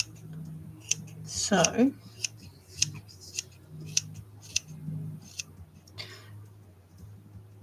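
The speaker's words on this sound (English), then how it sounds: "I went and got myself some pet scissors to cut this particular fur." Pet scissors snip through fur for a handmade cat art doll, a series of sharp close metallic clicks repeating at a steady pace, with a brief rustle and a short spoken word near the start.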